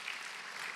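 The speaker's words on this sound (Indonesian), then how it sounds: "Berikan tepuk tangan buat Tuhan Yesus" A church congregation applauds during a service, a short, fairly faint wash of clapping from a distance that stays steady and unbroken throughout.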